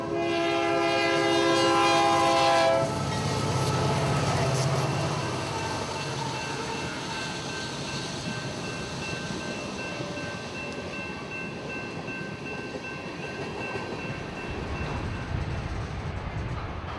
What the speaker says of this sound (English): northbound Union Pacific units lead another empty Georgia Power coal train back toward the mines